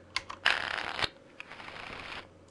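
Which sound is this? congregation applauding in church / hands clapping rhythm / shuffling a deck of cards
shuffling a deck of cards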